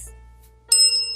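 A decorative sparkly bell rings once brightly and up close after a quiet, humming stretch, its clear tones lingering briefly as it fades.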